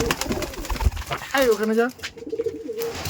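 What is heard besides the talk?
Giribaz pigeons cooing and being released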